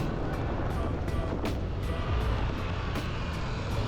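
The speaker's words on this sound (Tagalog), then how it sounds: "naririnig ko na yung dalawang motor na nasa likod ko." Two Yamaha Aerox V3 scooters, an SP and a standard version, race on a track with a steady loud engine roar and rushing wind noise, repeated pulses of revving throughout.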